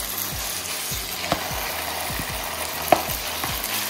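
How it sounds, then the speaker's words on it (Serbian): Chicken pieces frying in oil in a pan, a steady close sizzle broken by occasional sharp pops and crackles. "Stavila sam ulje u tigalj i sada ću dodati piletinu."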